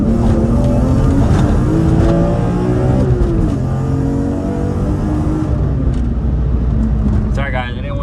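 Dinan-tuned BMW E46 M3 pulling hard on a test drive after sitting for four years, its engine note rising and shifting through gears loud and close throughout, with speech tagged underneath.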